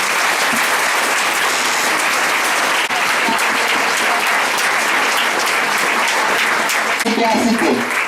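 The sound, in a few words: congregation applauding loudly at a religious gathering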